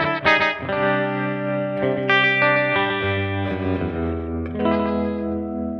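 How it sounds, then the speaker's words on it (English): Rockabilly electric guitar strummed through a tremolo effect, playing a few sustained, distorted chords with a pulsing flutter and some reverb. The guitar is loud and close for about six seconds, with no talking. "I'm just playing chords there so you can hear the old tremolo on its go."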